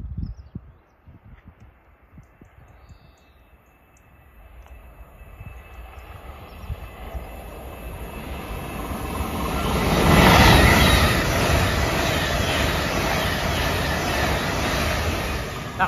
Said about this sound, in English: Passing through now is an LNER service from Newcastle to Edinburgh Waverley.